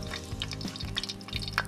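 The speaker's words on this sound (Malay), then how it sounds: "minyak bekas goreng daging dan tumiskan serai dulu." Steady crackling sizzle of lemongrass frying in hot oil left from frying beef, with scattered pops and a few soft clinks close by.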